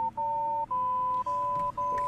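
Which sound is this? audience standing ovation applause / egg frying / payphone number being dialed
payphone number being dialed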